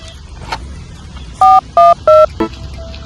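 Three clear telephone keypad tones beep in quick succession, each a short steady dual-tone burst, followed by a brief fainter blip, over a quiet room background as someone dials a call.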